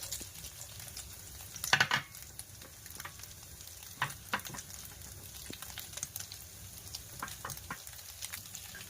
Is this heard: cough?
no